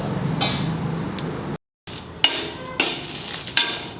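Ginger, cinnamon and other spices frying in a preheated pan, heard as close scraping and clattering strokes with a faint sizzle beneath, broken by a brief silent gap and then several sharp metallic knocks.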